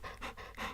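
A dog panting right against the microphone in quick, breathy bursts, close and intimate in a hot room.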